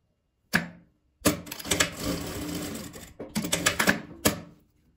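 Sewing machine stitching a folded seam on a fabric bag, a fast close mechanical rattle in two sustained runs framed by single clacks, with no talking over it.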